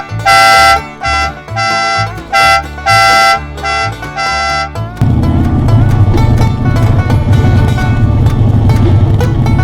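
Harley motorcycle riders sound their horns in a series of loud, close honks of varying length, then the rumble of motorcycle engines takes over.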